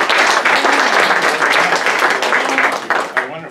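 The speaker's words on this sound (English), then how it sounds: "give a loud ringing applause for our two guests tonight" Loud, dense applause from a large crowd at a talk at a senior living community in West Seattle, sustained and close, fading slightly toward the end.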